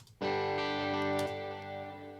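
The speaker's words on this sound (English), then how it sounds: "now we have a nice chorus delay that's falling into reverb as it tails off" Sustained tone processed in Cubase with a multi-tap chorus delay that blooms into a reverb tail, a bright shimmering held note that swells and then slowly decays, with no voices.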